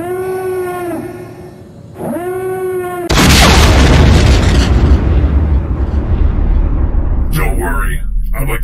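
A loud, close explosion in a Star Wars animation erupts after a tonal, warbling sound, then a long rumbling roar follows with crackling debris and whooshes fading out.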